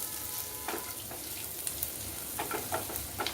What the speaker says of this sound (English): These are roughly crushed peanuts. I have roasted them earlier too, but now roast these in the oil.